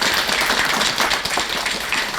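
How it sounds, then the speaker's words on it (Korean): An audience at a forum gives a round of applause, many hands clapping in a dense, steady patter that fills the room at moderate loudness. "그래서 보이지 않지만 큰 박수 한번 좀 쳐드렸으면 좋겠습니다."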